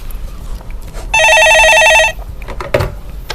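A telephone rings loudly in one sustained electronic trill, announcing a viewer calling in to a Korean stock market call-in show, with studio room tone before and after.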